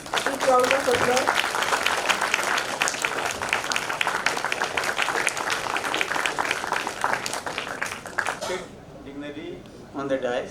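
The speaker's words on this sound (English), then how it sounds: "big round of applause." An audience at a valedictory function for an engineering education workshop breaks into sustained applause, many hands clapping steadily for several seconds, with a voice speaking over the clapping as it fades out.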